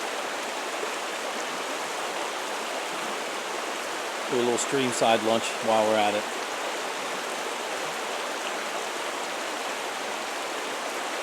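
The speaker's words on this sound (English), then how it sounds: "The sound of the water never gets old." A wilderness trout stream in the Cranberry Wilderness flows with a steady, broadband rushing wash throughout, while someone speaks briefly near the middle over the constant water.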